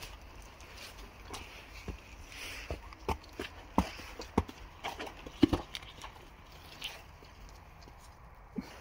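Horses walk nearby, their hooves clip-clopping in an uneven, steady rhythm of sharp knocks, some close and loud, over a low outdoor background.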